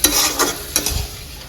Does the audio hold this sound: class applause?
no